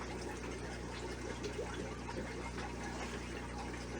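Water is siphoned from an old aquarium tank into a container, a steady close gurgling trickle with a low constant hum beneath, quiet and continuous throughout.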